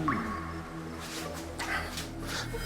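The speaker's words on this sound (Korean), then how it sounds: "이 수도꼭지에서 물 떨어지는 소리가 들려왔어요." Water drips from a tap into a sink in a dark basement, a few sparse, separate drops landing over a low background hum, with no voices.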